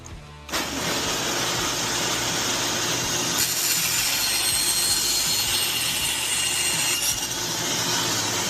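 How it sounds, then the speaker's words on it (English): Bandsaw slicing through taped-together pieces of holster material in a workshop, a sudden start into a steady, loud hissing cut that runs without pause. "Chop this up on the bandsaw real quick."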